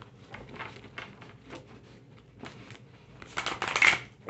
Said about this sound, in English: I pre-shuffled my cards. But I shuffle on camera too.